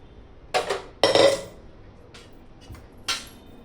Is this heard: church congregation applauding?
no